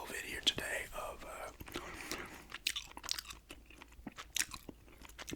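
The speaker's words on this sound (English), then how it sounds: "Gum chewing show and tell video today" Gum being chewed close to the mic in an ASMR setting, soft wet smacking and crunchy clicks in an irregular rhythm, with whispering running under it throughout.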